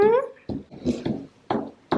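A young puppy gives a high, wavering whimper followed by a few short, soft yelps and snuffly sounds, close and fairly quiet, with no talking.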